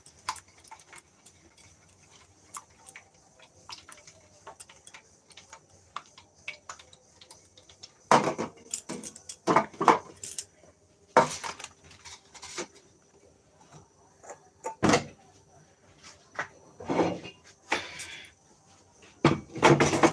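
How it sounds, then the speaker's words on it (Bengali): Eggs seasoned with a little salt are beaten in a bowl for an egg-and-paratha snack, heard as light, scattered ticking clicks that build into irregular bursts of louder clatter and scraping, with no talking. "ডিমটাকে এখন ফেটাতে হবে ভালো করে"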